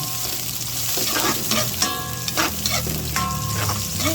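Onion and garlic sauté in a hot pan for corn soup, a steady close sizzle and crackle throughout, with a few brief clinks and stirring scrapes over it.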